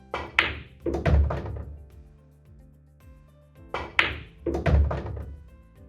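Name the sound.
pool cue ball stop shot striking object ball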